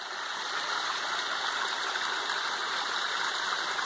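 Water from the mountain streams steadily down a channel through brush beside coffee plants in rainy-season Minas Gerais, a continuous, even rushing flow heard close and alone.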